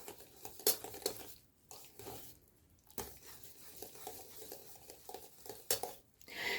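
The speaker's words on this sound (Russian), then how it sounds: "просто топлю масло в заварной основе горячей еще креме. И хорошенечко перемешиваем" A spoon stirs melted butter into hot custard cream for a chocolate nut cake, making soft scraping and knocking against the pot in uneven strokes, close and fairly quiet, with brief gaps between movements.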